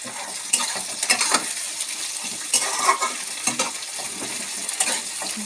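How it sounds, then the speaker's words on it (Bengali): Curry ingredients fry lightly in a pan with a soft, steady sizzle, broken by repeated scraping stirs and small metallic clinks of a spoon against the pan. "হালকা একটু ভেজে নেব"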